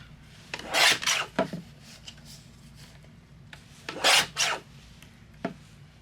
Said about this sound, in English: I'm going to trim down some 1/2 inch strips.